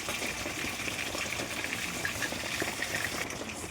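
Fish fries in hot mustard oil for a spicy fish curry, giving a steady crackling sizzle with fine popping throughout and no talking.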